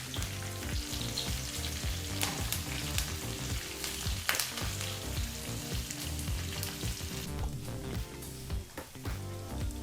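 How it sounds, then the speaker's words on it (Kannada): Crushed garlic, curry leaves and two byadgi chillies fry on a low flame for an Andhra-style gongura chutney tempering, giving a steady soft sizzle with faint background tones. "ಜಜ್ಜಿರ್ತಕ್ಕಂಥ ಬೆಳ್ಳುಳ್ಳಿ, ಜೊತೆಗೆ ಸ್ವಲ್ಪ ಕರಿಬೇವಿನ ಸೊಪ್ಪನ್ನು ಸಹ ಹಾಕಿ, ಇನ್ನು 2 ಬೆಡಗಿ ಮೆಣಸಿನಕಾಯಿನೂ ಸಹ ಹಾಕಿ ಲೋ ಫ್ಲೇಮ್ನಲ್ಲೇ 1 ನಿಮಿಷದವರೆಗೂ ಇದನ್ನು ಫ್ರೈ"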